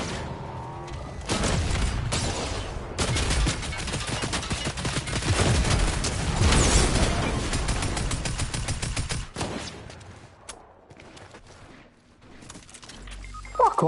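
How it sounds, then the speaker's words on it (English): Shotgun blasts fired from long range in Fortnite crack out in rapid, repeated bursts across most of the stretch, loud and dense, before thinning out near the end. "He's shooting me with a shotgun from like 100 meters away."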